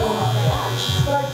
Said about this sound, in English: I'm just going to edge out the hairline now, using the mini trimmers